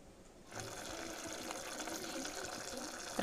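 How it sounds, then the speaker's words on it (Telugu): Tamarind juice is poured into a pot of sambar, a soft steady liquid splash starting after a brief quiet moment and continuing evenly, faint and close. "రసం తీసుకొని ఇందులో వేసేయాలి చింతపండు రసం"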